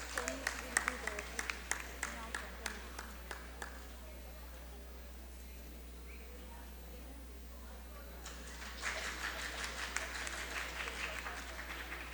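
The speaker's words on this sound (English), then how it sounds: "A big round of applause." Audience applause at a school foundation day event, with scattered claps at first that fade into a quieter stretch and then build again into denser clapping toward the end, heard over a steady low hum.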